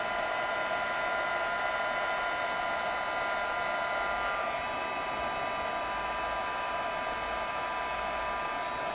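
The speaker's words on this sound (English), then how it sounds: "Once the heat tool gets hotter, then they start to really emboss quickly." A heat embossing tool blows hot air steadily and continuously at close range while embossing stars on a handmade card, producing an even, hissing whoosh with a faint hum and no pauses.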